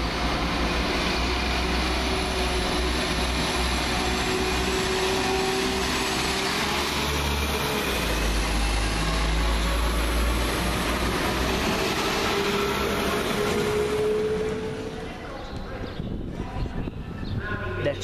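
A London Midland class 172 diesel multiple unit at Birmingham Moor Street station, a steady, loud engine drone and rumble running throughout, fading slightly near the end.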